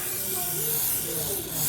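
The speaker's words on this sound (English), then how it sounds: "and then spray it on along the edge" Fast-setting glue sprayed along an edge gives a soft, steady hiss for under two seconds, close and fairly quiet.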